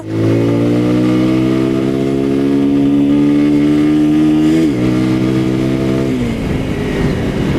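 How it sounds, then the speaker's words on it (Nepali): A 165cc motorcycle engine revving up close, its pitch climbing steadily for several seconds, then dropping sharply, rising again and falling off once more, loud with no talk over it. "It revs well"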